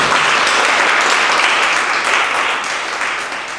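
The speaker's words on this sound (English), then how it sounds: "Let's give them a round of applause." Loud, dense applause from an audience at a meeting, continuous for a few seconds and easing slightly toward the end, with no talk over it.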